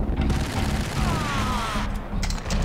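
Gunshots in a first-person shooter video game: dense, continuous bursts of gunfire and booming impacts form a loud, unbroken roar throughout.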